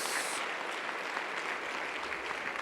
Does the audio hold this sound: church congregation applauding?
yes